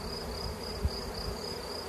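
Honeybees fan at a hive entrance as the hive is smoked, a steady faint buzzing drone with a thin high whine above it and no talking.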